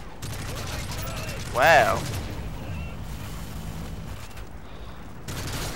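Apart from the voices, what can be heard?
gunfire in video game Call of Duty Modern Warfare 3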